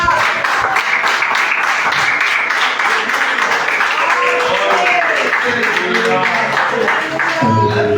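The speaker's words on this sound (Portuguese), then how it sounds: "Se você pode, aplauda bem forte." A church congregation applauds loudly and steadily for several seconds at a worship service, dense clapping under cheering and voices.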